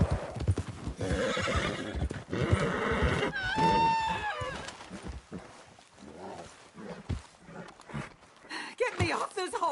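A horse whinnies loudly in Red Dead Redemption 2 gameplay, a rising-and-falling neigh cutting through hoof clip-clops and shouting voices, with busy talk and game noise continuing around it.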